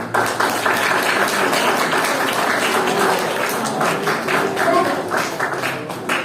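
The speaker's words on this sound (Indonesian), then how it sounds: "Tepuk tangan untuk kalian" High school students at a mental health seminar applaud together, a loud, dense wash of many hands clapping that holds steady for several seconds, with a few voices audible within it.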